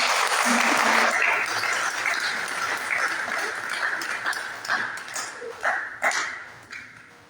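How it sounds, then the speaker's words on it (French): An audience applauds a doctor after a public health education talk, dense clapping that gradually thins into scattered individual claps toward the end. "Je vous prie d'applaudir une fois de plus pour le docteur Ange Menzego."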